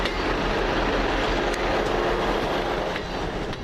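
A class 158 diesel train departs, giving a steady, loud rumbling roar with faint rhythmic wheel clicks over the rails, close by and heard alone without talk.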